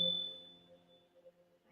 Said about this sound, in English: I had no idea that bell was in 432.